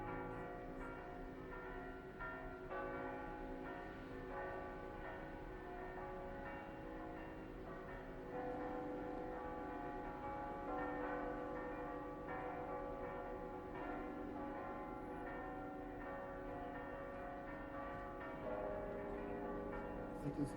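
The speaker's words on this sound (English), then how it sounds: "That is the big Kauki bell," A large church bell in Cospicua, cast by Giuliano Pauchi in 1895, rings out among the full set of the town's bells, a dense, continuous peal of overlapping strikes with long sustained tones, steady and loud throughout.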